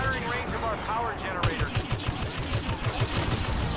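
Rapid bursts of blaster-style gunfire from the video game Star Wars Battlefront rattle out in quick repeated volleys over continuous game noise and effects, fairly loud throughout the clip.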